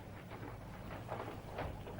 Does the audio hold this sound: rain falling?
yes